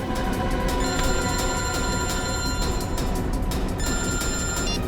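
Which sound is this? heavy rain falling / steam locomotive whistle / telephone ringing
telephone ringing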